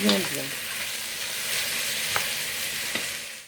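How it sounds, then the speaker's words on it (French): Onions fry over high heat in a pan with a loud, close, steady sizzle and a few sharp scraping stirs, ending abruptly after a few seconds. "Je fais bien cuire les oignons jusqu'à ce que ça dore bien"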